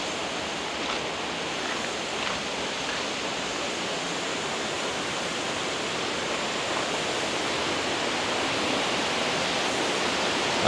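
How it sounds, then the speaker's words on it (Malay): A fast-flowing river at a campsite in Sungai Bil, a steady broadband rush of water with no voices, constant and fairly even in level throughout. "Sungai dia memang cantik. Arus dia deras sikit."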